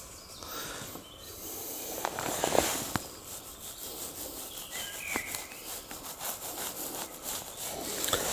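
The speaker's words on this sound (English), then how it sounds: "Just me scratching my head." Head being scratched outdoors in woodland, a close dry rasping rub that rises and falls in bursts over several seconds, with a few sharp ticks and faint background ambience.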